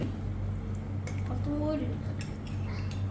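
A utensil clinks and scrapes softly against a dish as chili is mixed into food, a few light taps over a steady low hum, with a faint voice in the background.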